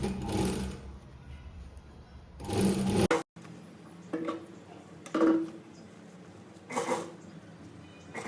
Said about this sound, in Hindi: अब यहाँ पे हम स्टिच लगा देंगे।